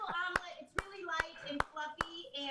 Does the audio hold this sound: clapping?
yes